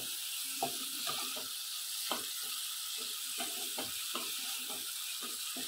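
Oyster mushroom masala frying in a pan, a steady bright sizzle with irregular soft taps and scrapes of stirring underneath.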